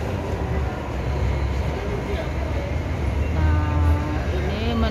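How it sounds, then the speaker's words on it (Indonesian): A train pulls into a station in Yuen Long, Hong Kong, with a continuous low rumble that swells near the end as tonal brake and motor whines rise, heard in the open with light voices around. "Nah, kereta berikutnya datang lagi,"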